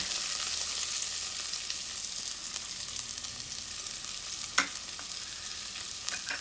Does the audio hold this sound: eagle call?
no